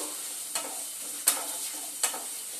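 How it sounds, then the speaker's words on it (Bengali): Spice paste with chopped tomato, ginger, whole cumin and dried red chillies stir-fried in a pan, a steady low sizzle punctuated by three sharp spatula scrapes. "টমেটো কুচি দিয়ে দিলাম দিয়ে এবার মশলাটাকে খুব ভালো করে কষিয়ে নেব"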